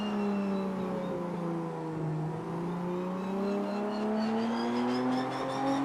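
Race car in Project Motor Racing on PS5 with an F1-style engine, droning steadily with smooth rises and falls in pitch as it accelerates, loud and continuous throughout.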